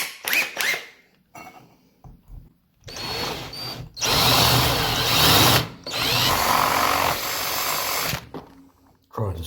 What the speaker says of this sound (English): Now to drill switch hole.